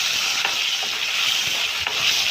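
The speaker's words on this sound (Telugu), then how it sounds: "ఇలా వేయించుకోవాలి." Onion and tomato fry in hot oil for drumstick sambar, making a loud constant sizzle broken by brief stirring scrapes.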